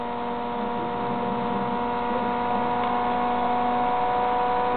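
Small electric motor with a spinning rotor under magnet biasing, giving a steady close electrical hum with stable tonal lines and a slight shift as the rotor slows, no voices.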